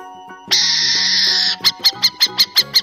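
An owl calls: one sustained, shrill note, then a quick, even series of about seven short hoots, close and loud, with no one talking.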